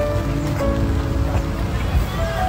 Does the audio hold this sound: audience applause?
no